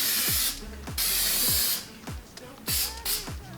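A spray can mists coating onto honeycomb carbon fiber trim in several short hissing bursts. Soft knocks and handling sounds fall between the sprays.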